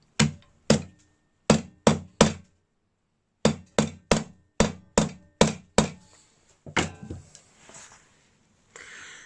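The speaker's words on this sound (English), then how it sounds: "We'll get trusty hammer and I'll try and knock that a bit more flat" Hammer blows flattening a tin, sharp loud metallic knocks in quick bursts of three or four, pausing between groups, then fading into scraping clatter.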